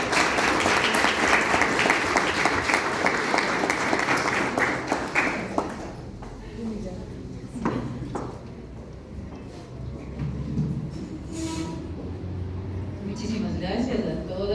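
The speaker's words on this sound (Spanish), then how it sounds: "vamos a pedirle un fuerte aplauso a Raquel" Audience at a talk applauds a journalist speaker, a dense burst of clapping that fades after about five seconds into scattered claps and a voice speaking.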